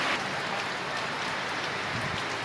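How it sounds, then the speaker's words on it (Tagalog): Heavy rain pours down steadily in a constant, dense wash of noise, loud and close with no pauses, whipped by strong wind during a storm. "Sobrang lakas ng ulan."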